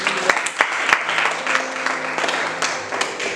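A church congregation applauding in steady rounds of clapping, fairly close, with sharp individual claps standing out over the continuous patter.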